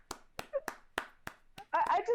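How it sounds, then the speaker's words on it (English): Scattered hand claps from a crowd at a wrestling event, six or so separate sharp claps spread over a couple of seconds before voices start talking over the end. "The crowd claps in appreciation to Luna Young for the tremendous attempt that she made tonight."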